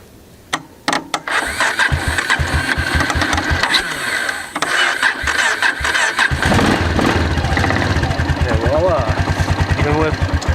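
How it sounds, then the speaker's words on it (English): A four-wheeler ATV running without its battery cranks with sharp irregular chugs, then catches and runs in a rough, uneven loud putter close by, with a voice briefly audible under the engine. "the four-wheeler will run without the battery, but it doesn't run very well"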